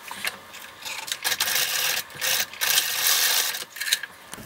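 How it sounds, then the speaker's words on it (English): A sewing machine runs zigzag stitches across elastic ends, a close, quick mechanical chatter in short bursts separated by brief stops. "sew a rectangle and an X or a bunch of zigzag stitches to secure these elastic ends together"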